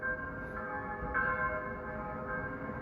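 A church bell rings in the distance, its faint, sustained metallic tones humming and swelling over a steady background, with a couple of soft strikes and no speech.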